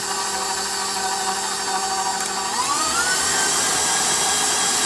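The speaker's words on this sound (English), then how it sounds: "I hope you can hear me talking with the beater going" A KitchenAid stand mixer runs steadily with its beater working bread dough for cinnamon rolls, a close, continuous motor whine with a rising pitch sweep partway through, and no talking.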